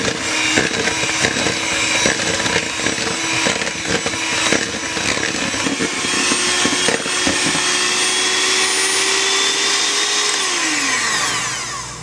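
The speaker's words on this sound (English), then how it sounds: "now I will take my hand mixer and I would mix this up" An electric hand mixer whirs loudly and steadily through banana bread batter, holding a constant motor drone before winding down near the end.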